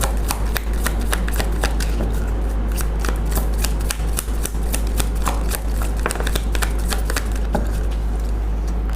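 Tarot cards shuffled continuously for about nine seconds, a dense run of crisp riffling snaps and flutters at close range with no talking over them.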